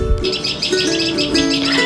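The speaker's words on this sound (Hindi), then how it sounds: "ये हमारी छोटी सी चिड़िया, जिसको कहते हैं ना छोटा पैकेट बड़ा धमाका, रोज़ सुबह आके बालकनी में खूब शोर मचाती है" A small bird chirps on a balcony, a quick series of bright, close tweets repeating in short bursts.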